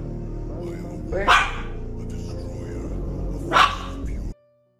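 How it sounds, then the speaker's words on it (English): A dog barks twice, loud and close, with a gap of about two seconds between the barks over a steady low background hum, in a scary-video compilation. "The dog appears to bark on something invisible"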